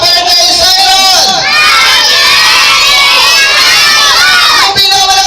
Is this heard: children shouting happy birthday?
yes